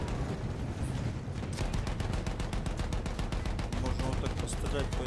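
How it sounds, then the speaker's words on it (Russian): A machine gun in the Battlefield 1 video game opens up after a moment of rumbling battle noise, firing a rapid, sustained stream of loud shots over continuous combat din. "Вот он, пулемет наш"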